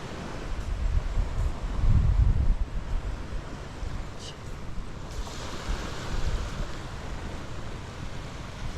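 Sea waves rolling onto a beach, a rough, continuous roar with surges that swell and fall, mixed with wind buffeting the microphone, no speech.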